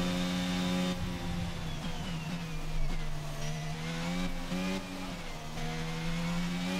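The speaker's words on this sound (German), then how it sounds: "Ich liebe die Formel 1 Autos, ne? Was für einen geilen Sound die mal haben." A high-pitched Formula 1 car engine in the video game F1 2022 whines steadily at the Australian Grand Prix, its tone dipping and climbing as gears shift, loud and sustained without any talking.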